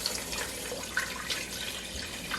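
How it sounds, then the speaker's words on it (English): Water being poured from a container into a pot holding flaxseed, a steady splashing pour with a few brighter trickling spurts, close by and alone. "and you put the 3 cups of water"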